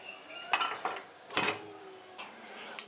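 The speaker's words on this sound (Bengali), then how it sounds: "এদিকে গ্যাসটাকে অন করে আমি অন্য একটা কড়াই বসিয়ে নিচ্ছি" A metal wok set down on a gas stove burner in a home kitchen, heard as a few sharp metallic clanks and scrapes, close and distinct, with quiet pauses between.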